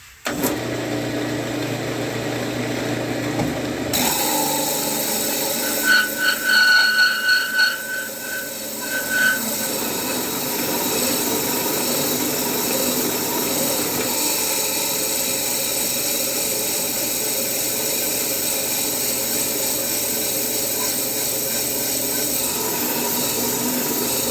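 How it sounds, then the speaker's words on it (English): Sandpaper held against the top of a turned, segmented cherry wood vessel, giving a steady, close whirring rush that runs without a break for the whole stretch, with a brief brighter scratchy patch early on and no talking. "I'm just going to take the sandpaper, clean up this top"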